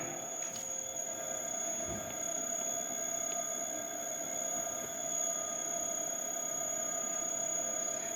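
A three-phase induction motor driven at 20 Hz, turning at about 603 RPM under V/F speed control in a lab test, gives a steady electrical whine with fixed high tonal lines over a low hum, constant and unbroken throughout.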